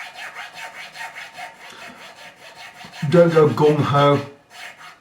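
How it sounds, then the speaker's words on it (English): Filing nut slots on a PRS SE 24 Custom guitar's new nut, with faint quiet scraping early on, then a loud, close rasping burst for about a second; someone speaks briefly over the filing. "So we'll pull the string over"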